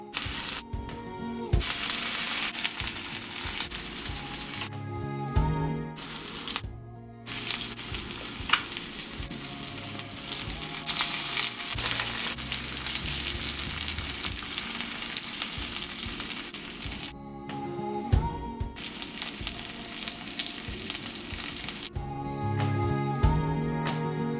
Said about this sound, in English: Turning occasionally until the paneer is lightly charred and the vegetables are cooked.